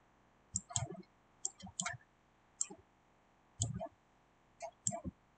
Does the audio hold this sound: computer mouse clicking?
yes